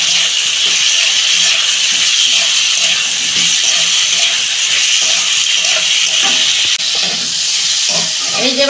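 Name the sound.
potatoes and pointed gourd sizzling in spiced oil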